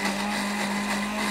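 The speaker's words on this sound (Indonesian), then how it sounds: "Oke, kita blender sampai bumbunya ini halus." A blender grinds red chili spice paste with oil and no water, giving a steady, loud, whirring motor drone throughout.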